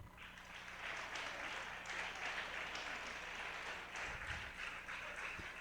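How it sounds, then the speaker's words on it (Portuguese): Church congregation applauding, a dense sustained wash of many hands clapping at a distance, fairly faint and steady throughout. "Você pode aplaudir ao Senhor?"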